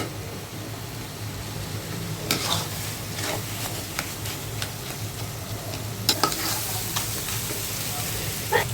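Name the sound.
taki fish vorta being stirred and fried in oil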